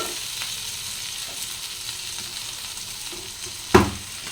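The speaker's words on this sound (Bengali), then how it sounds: "এভাবে ভেজে নিতে হবে যে লাল লাল করে একটু ভালোভাবে আমি কষে নিলাম" Tomatoes with salt sizzle in a pan as the base for a jackfruit and potato curry, a steady soft frying hiss with a short louder scrape or clatter near the end; no voices.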